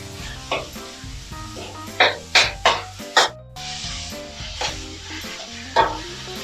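Minced pork stir-frying in a hot wok for Thai basil pork, a bubbling sizzle broken by a run of sharp spatula scrapes and clacks against the wok, close and unaccompanied by talk.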